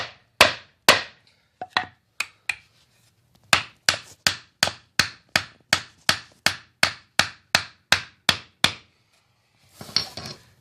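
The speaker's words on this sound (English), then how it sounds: "So you just hammer it down." Sharp hammer strikes, a few scattered at first, then a steady run of evenly spaced blows, loud and close, ending with a brief rattling clatter.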